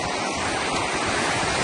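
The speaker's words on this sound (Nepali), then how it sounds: "पानी यसरी बगेर आउँछ" A natural river flowing toward the sea rushes in a steady, loud wash of water that stays constant and close throughout the brief moment, with no voices over it.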